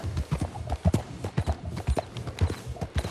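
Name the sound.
horse hooves in video game Red Dead Redemption 2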